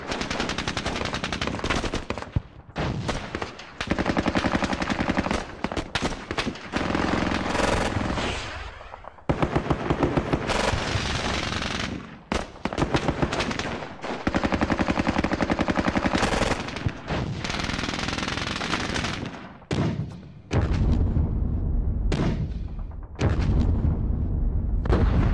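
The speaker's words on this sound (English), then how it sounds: "Let's take some mortar fire." Mortar and gunfire in the Squad Battles Eagles Strike war game, a near-continuous barrage of loud crashing blasts and rattling shots that runs for the full stretch, with only brief gaps between volleys.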